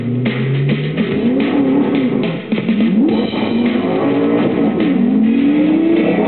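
A Ford GT and a Lamborghini Gallardo launch side by side in a supercar race, a loud sustained engine roar with rising, shifting revs and a brief dip mid-way before pulling hard again.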